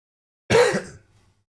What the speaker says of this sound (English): I promise that's the last cough that you'll hear